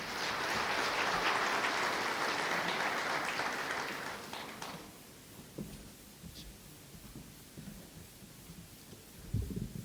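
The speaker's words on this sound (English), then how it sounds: "I don't know we're clapping because you loved what you heard." Audience at a construction health and safety seminar claps loudly and steadily after a presentation, then the applause cuts off abruptly, leaving quiet room noise and a few faint knocks.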